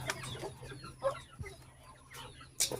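A hen clucks and squawks in short agitated bursts, fairly faint, with a sharper cry near the end.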